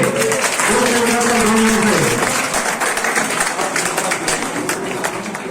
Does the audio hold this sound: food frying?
no